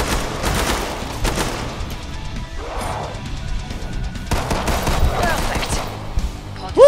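Weapon gunfire in the video game Killing Floor 2 breaks out in rapid bursts and volleys with crashing impacts, mixed with game effects and a sharp burst at the end.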